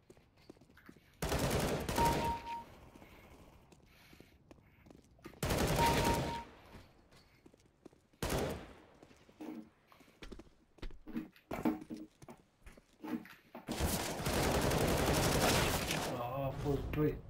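Gunfire from Counter-Strike: Global Offensive comes in several loud bursts of rapid shots separated by quieter gaps, with scattered single shots and a long final burst.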